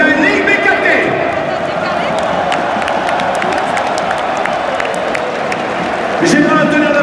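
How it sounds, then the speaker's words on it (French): A stadium crowd at the Coupe de la Ligue BKT in Lille applauds and cheers in a broad, steady wash of clapping, with a voice talking over it near the start and end. "J'ai maintenant l'applaudissement, s'il vous plaît"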